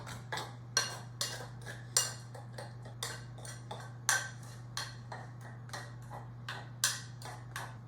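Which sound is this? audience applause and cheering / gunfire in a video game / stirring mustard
stirring mustard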